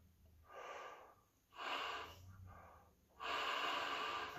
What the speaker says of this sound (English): You should try to breathe from like the corners of your mouth.